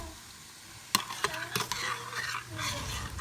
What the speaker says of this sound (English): I keep stirring it to get all the lumps out